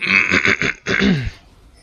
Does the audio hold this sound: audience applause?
no